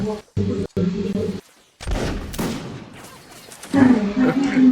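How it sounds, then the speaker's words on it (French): Gunfire is exchanged at close range in a war film, with loud, abrupt booming bursts and rumbling blasts separated by short silences, mixed with voices and other action sound. "Échange de tir à bout portant."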